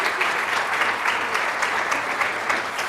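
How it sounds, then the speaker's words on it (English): Steady, dense applause from an indoor audience at a talk on caregiving, many hands clapping close and loud throughout with no pauses. "So a big round of applause."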